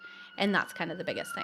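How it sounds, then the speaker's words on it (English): An emergency vehicle siren wails steadily in the background while a person talks over it close by. "if you hear those sirens in the background right now"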